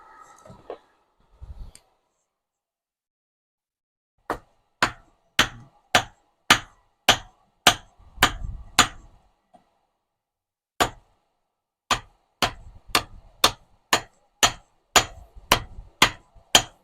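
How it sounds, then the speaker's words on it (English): Sharp, ringing hammer blows strike hot metal at a backyard forge while copper is forge welded to steel. A few quick strikes are followed by a pause and then a longer steady run of evenly spaced hits, loud and close. "Sort of trying to forge weld copper to steel."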